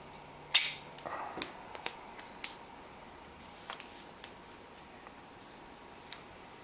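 A strip of athletic tape being cut, heard as a sharp snip followed by several small, faint clicks and rustles spread over a quiet background.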